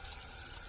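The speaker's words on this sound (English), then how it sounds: "So I'm going to turn on some lukewarm water." Lukewarm water runs from a tap in a steady, soft, continuous hiss, faint and alone with no voices.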